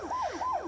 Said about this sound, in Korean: 막 사이렌 소리가 막 들리더니 밖이 막 소란스러운 거예요.